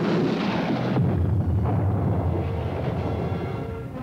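Heavy artillery firing in a movie battle scene: a deep, booming blast rolls out at about one second, followed by a long rumbling decay and lingering low thunder-like noise.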